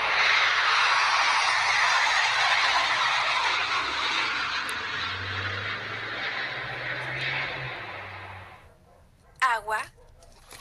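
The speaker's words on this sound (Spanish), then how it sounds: "avión." An airplane flies overhead, a loud broad roar that slowly fades over about nine seconds, followed by a few brief sounds at the end.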